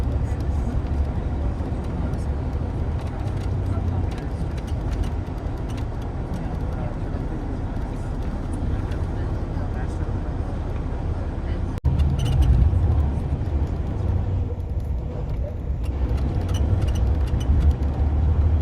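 A bus drives through city traffic in Washington DC, its engine and road noise forming a continuous low rumble heard from inside, steady throughout with a brief bump partway, while a voice talks over it.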